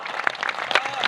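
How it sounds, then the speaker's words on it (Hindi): An audience claps at an all-India poetry gathering honouring martyrs: a brief, dense burst of applause with a voice carrying over it. "तालियां उठा दे पूरा चेहरा इस बार"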